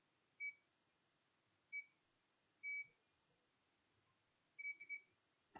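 Short electronic beeps from a multimeter continuity tester, used on an iPhone 6 motherboard, sound four times at irregular intervals, the last two close together, clear over a quiet background.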